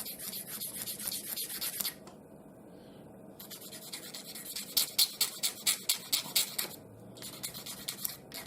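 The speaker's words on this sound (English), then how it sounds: "we're going to use the 320 grit to clean this up" Hand sanding a knife sheath ferro rod attachment with 320 grit sandpaper: rhythmic scratchy rubbing strokes, a short pause, then faster, louder back-and-forth strokes close by with no talk.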